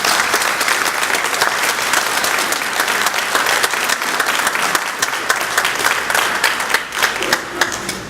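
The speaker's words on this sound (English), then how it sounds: "And so let's give them a big round of applause." Audience applause at a school district employee retirement dinner, a dense, steady wash of many hands clapping that fills the whole stretch at close range and tapers slightly near the end.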